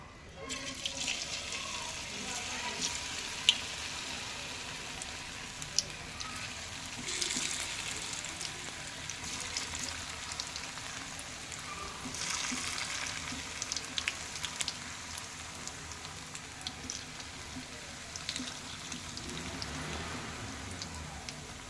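Raw banana kebabs deep-fry in a pan of hot oil, giving a steady, soft sizzling hiss that rises and falls slightly throughout, with no voices.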